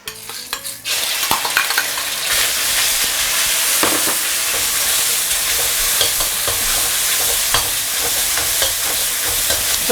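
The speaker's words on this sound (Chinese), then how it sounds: "把热油倒出来，来点凉油，肉丝直接下锅" Shredded pork goes into oil in a wok over high heat and is stir-fried fast. A loud, continuous sizzle rises after a brief opening clatter, with the scrape of the spatula breaking through now and then.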